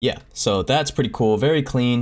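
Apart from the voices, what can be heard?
None of the usual background noises is heard.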